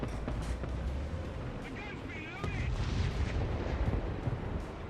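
A tank cannon fires in War Thunder from a Centurion Mk.5/1, heavy booms breaking through a dense, rumbling game soundscape of engine and battle noise.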